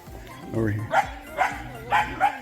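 Dogs meeting on a rocky hillside trail give a few sharp, close barks and yips in quick succession, with a voice briefly heard at the start.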